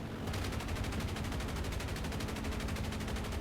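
A P-47N-15 fighter's machine guns fire in the War Thunder flight game, an unbroken rapid burst of loud, evenly spaced rattling shots lasting throughout, with no talk.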